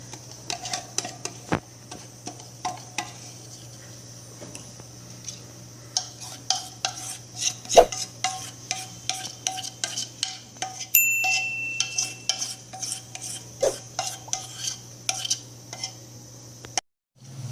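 Dhokla batter mixed with Eno is poured and scraped into an oiled pan, giving a string of quiet taps, clicks and spoon scrapes alone against a steady low hum.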